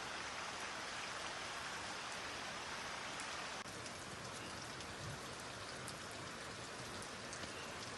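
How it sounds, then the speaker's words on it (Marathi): Heavy rain pours steadily at night, a dense continuous hiss of drops on surfaces with no pauses, even and moderately loud throughout, with no voices. "मध्यरात्रीपासून मुसळधार पावसाला जिल्ह्यामध्ये सुरुवात झाली आहे"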